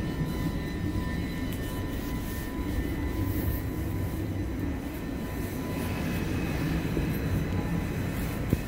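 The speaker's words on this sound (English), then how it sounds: "Okay, the train is here." Train arriving at a quiet, empty station, a steady loud low rumble and roar of the cars pulling in that holds evenly throughout, with faint tonal whine above and no talking.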